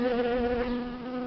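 Buckfast honey bees buzz steadily inside an opened hive during a spring inspection, a close, continuous droning hum with a strong even pitch and no voices.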